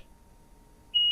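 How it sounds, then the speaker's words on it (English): An HMI remote's buzzer sounds while its buttons are held, a steady high electronic tone that starts abruptly near the end after near silence, with a short faint beep at the very start. "hold until you hear the buzzer"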